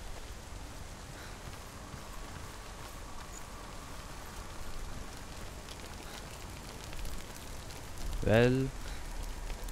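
Rain patters steadily in the video game Hellblade: Senua's Sacrifice, a soft constant hiss of drops on surfaces; near the end someone speaks briefly over it.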